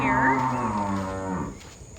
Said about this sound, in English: the cows do what they want to do apparently, but you can see the cows over here.